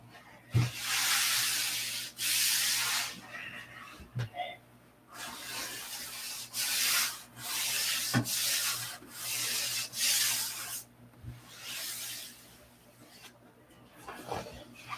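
Hand sanding of a thin doped surface makes repeated close scratchy rubbing strokes in uneven bursts, with brief pauses and light knocks between passes.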